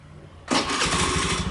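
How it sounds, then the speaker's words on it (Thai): A Honda Scoopy-i motorcycle engine, started by remote with the key removed, cranks briefly and catches into a close, loud, steady idle that continues to the end. "รถก็สตาร์ทติด"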